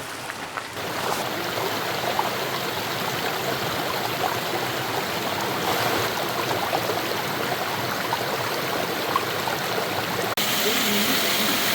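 Water rushes steadily from the Seven Sisters Falls cascade in Murray Canyon, Agua Caliente Indian Canyons, a continuous hissing wash heard from some distance, constant throughout.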